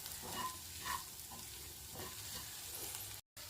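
Capsicum poriyal with pepper powder is stirred in a pan, giving a soft, quiet sizzle with a few gentle scraping strokes, briefly cut to silence near the end.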